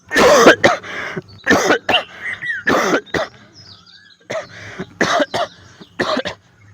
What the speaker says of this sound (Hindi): ये खांसी 3 हफ्ते से आ रही है